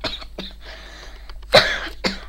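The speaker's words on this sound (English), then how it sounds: "Sorry, coughing." A person coughs in several sharp, close bursts, with the loudest coming near the end. The coughing happens during a casual walkthrough of a PS2 game collection.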